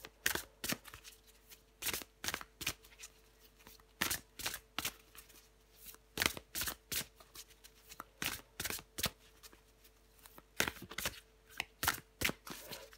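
Tarot cards being shuffled in a steady run of crisp riffling bursts, close and fairly quiet, with short pauses between shuffles and no talking.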